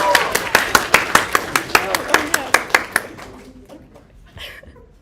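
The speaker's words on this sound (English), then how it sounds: "Let's get a round of applause for Arya" A small group claps in an even rhythm, about fifteen sharp claps close by, tapering off into scattered faint taps and quiet talk.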